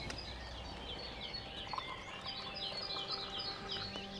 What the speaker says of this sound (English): just the roaring of the stove and the singing of the birds making any noise.